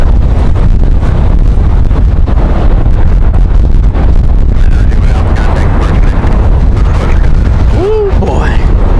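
Strong gusty wind at Raleigh-Durham International Airport roars loudly and constantly into the microphone, with heavy buffeting and a brief voice-like sound late on.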